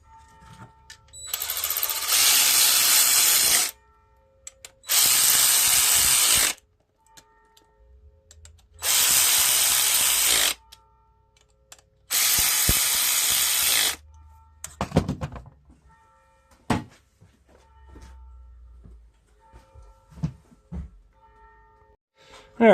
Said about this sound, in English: Put the bolts down in there. And tighten it up.